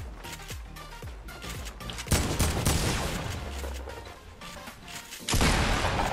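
Rapid gunfire in Fortnite during a build battle: a string of quick shots and impacts, then a thicker volley with a crash, and another loud burst near the end, all close and loud.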